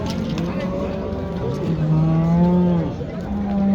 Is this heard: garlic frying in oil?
no